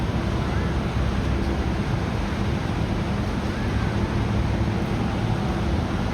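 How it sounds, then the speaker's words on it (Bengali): Sea waves at Cox's Bazar beach in the evening, a continuous broad wash of surf with some wind buffeting the microphone and no clear speech. "সন্ধ্যাবেলা এখানে বসে বসে সমুদ্রের সাউন্ড শুনতে পাবো"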